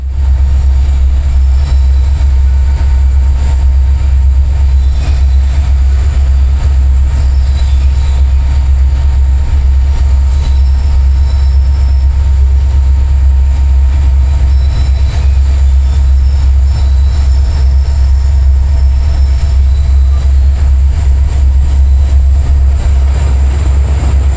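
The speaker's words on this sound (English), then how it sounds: "Maintaining yard speed over the area's rolling hills provided some nice acoustics as I followed behind engine number 5520" An ex-CN SD60F cowl locomotive, number 5520, moves at yard speed over rolling hills, a loud, steady, deep diesel rumble and drone that holds without a break from start to end.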